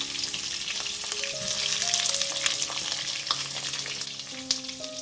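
Stuffed bitter gourds (karela) fry steadily in a pan over a medium-to-low gas flame, a continuous close sizzle with occasional utensil clinks and no voices.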